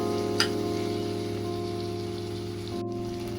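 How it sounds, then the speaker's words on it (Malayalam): Paneer frying with tandoori masala in a pan for makhani paneer, a steady close sizzle with soft stirring under a constant low hum, one sharp click early on. "പനീറിട്ട് നന്നാക്കി ഇളക്കണം"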